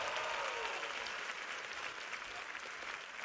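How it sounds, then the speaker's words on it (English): Steady applause from an audience at a university graduation ceremony, dense clapping filling the space at a fairly soft level, with no voices standing out. "Round of applause for the parents."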